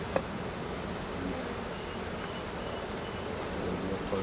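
Honeybees buzzing steadily around an open hive during a beekeeping inspection, a continuous close, even drone with no talking.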